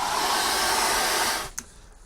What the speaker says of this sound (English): I dried it off with the hairdryer